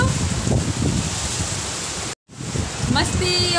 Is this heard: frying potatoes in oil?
no